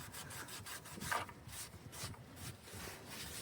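Cloth wiping down a car floor mat during an interior detail of a Dacia Jogger, a steady run of soft rubbing strokes, close and fairly quiet, with no voices.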